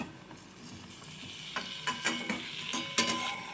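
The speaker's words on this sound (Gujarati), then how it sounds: "એટલે હવે આપણે બાફેલા બટેકા એડ કરી દેશું" Boiled potatoes being stirred into a pan of masala cooked until the oil separates, for Ahmedabad-style katka roti; a soft steady sizzle with scraping spoon clinks and a few louder knocks against the pan.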